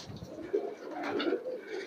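Racer pigeons in a home loft of more than a hundred birds give soft, throaty coos close by, a few rising and falling calls overlapping in quick succession.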